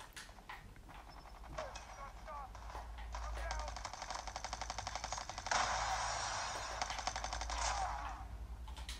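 Rapid bursts of gunfire from a firearm in the mobile shooter game Call of Duty Mobile crackle through the whole stretch, dense and repeated over a low in-game rumble.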